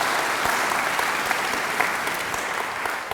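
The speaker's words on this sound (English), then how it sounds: "So give them a cheer too." An audience at an inaugural memorial lecture breaks into loud, dense applause that holds steady throughout.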